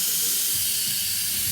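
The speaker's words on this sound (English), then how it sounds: "When you open this, obviously you'll be releasing steam" A La Pavoni pre-millennium lever espresso machine vents steam through its wand, producing a loud, continuous, close hiss that carries on without pause.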